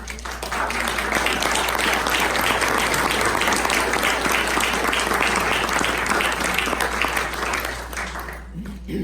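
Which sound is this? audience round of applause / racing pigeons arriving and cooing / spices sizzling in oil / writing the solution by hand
audience round of applause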